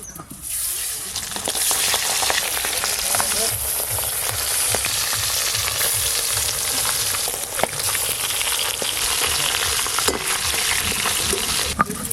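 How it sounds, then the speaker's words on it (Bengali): Sarputi fish fry in a pan with a loud, unbroken close-up sizzle and crackle that runs throughout, with occasional sharper pops. "এই মাছগুলো ভাজা হয়ে গেছে তুলে নেব"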